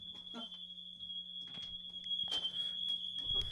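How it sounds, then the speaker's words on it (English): A smoke alarm, set off indoors by a lit candle, sounds a steady high-pitched tone continuously throughout, with voices talking and shifting sounds beneath it. "That's the first time a smoke alarm has gone off in the podcast"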